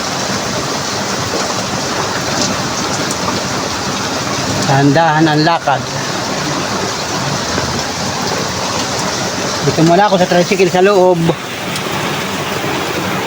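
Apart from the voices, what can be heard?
rain falling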